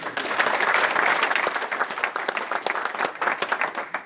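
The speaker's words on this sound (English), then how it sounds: "There's a lot of clapping going on." An audience at a live-streamed smart manufacturing and robotics pilot event in Delft claps for several seconds, a dense burst that loosens into scattered, uneven claps as it fades.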